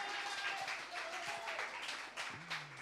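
A church congregation at a Sunday worship service applauds, a soft, distant patter of clapping with faint tones and murmured sounds mixed in.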